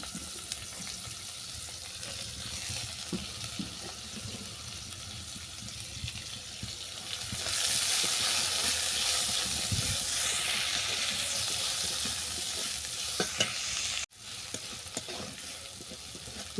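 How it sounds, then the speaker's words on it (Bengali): Chopped beans frying in a pan for a puri filling, a steady close sizzle that swells louder partway through, with occasional stirring scrapes and a brief cut near the end. "বিনসটাকে ভালো করে ভেজে নেওয়ার পর"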